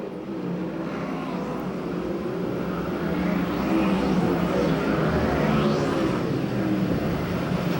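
USAC/CRA sprint cars racing at the So Cal Fair in Perris, California, make a sustained roar of several engines, with cars sweeping past over a steady din of the field.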